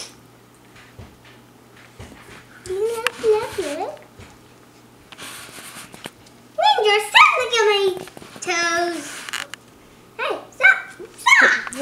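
Male corgi puppies yip, bark and whimper in several high-pitched bursts, close and fairly loud, with quiet gaps between them.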